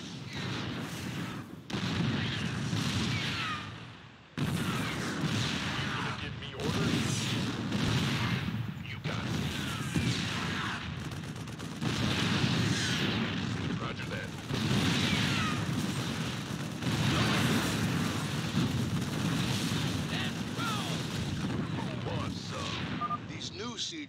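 StarCraft 2 siege tanks pound cannons with repeated heavy booming shots at irregular intervals, each blast followed by a rumbling tail, while speech runs under and between the shots.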